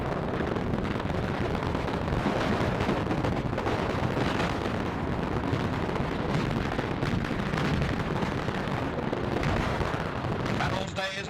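Anti-aircraft flak guns fire in a dense, continuous roar of overlapping blasts and rumbling, loud throughout, with a voice speaking over the din.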